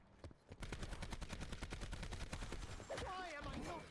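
Rapid video-game gunfire pours into a bullet-sponge zombie boss in a dense, rhythmic burst of shots, followed by a warbling electronic effect as it ends.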